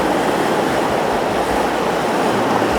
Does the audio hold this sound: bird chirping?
no